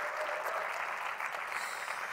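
Audience applause at a community talk on food, culture and economy, a dense steady wash of many hands clapping together, sustained and fairly loud throughout with no pauses or voices.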